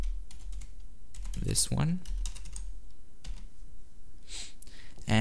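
Password typed on a computer keyboard while setting up a server login: sparse, close key clicks in short bursts, with a voice speaking briefly and a soft sigh-like breath.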